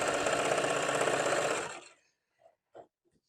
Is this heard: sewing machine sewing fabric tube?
yes